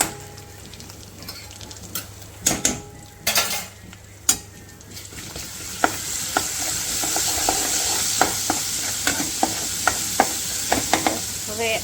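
Asafoetida and ginger-garlic paste tempering sizzles steadily in hot oil, with sharp clinks of a spoon stirring against the pan scattered throughout.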